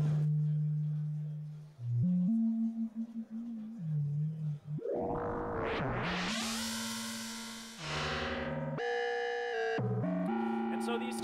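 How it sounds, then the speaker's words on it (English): A Dizigo digital oscillator shown at Superbooth 2023 plays a sine wave with phase modulation. Pure humming tones step and glide in pitch, then turn to brighter, buzzier harmonic tones that shift in short sections. "we have this sine wave that does some phase modulation"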